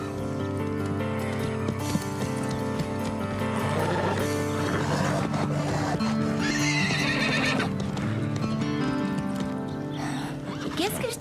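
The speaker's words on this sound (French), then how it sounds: "Carole a l'air un peu crispée. Parce que son cheval a peur du mur." An animated horse in a show-jumping cartoon neighs shrilly and clip-clops on its hooves as it balks at a wall jump, with music and voices talking over the action.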